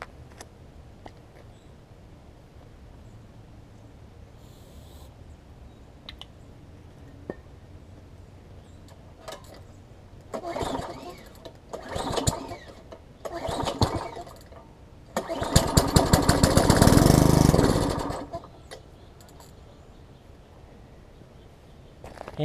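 Tecumseh 3.5hp engine on a Bolens edger, primed with starter fluid, is pulled over a few times with rattling cranks, then catches and roars loudly for a couple of seconds before dying back to quiet.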